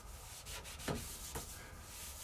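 A cloth wipes the underside of a Horizon treadmill walking belt, a surface meant to feel rough and abrasive, giving two soft, quiet rubbing strokes over low steady background noise.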